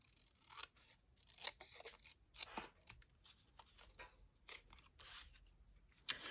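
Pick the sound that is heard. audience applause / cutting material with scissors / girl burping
cutting material with scissors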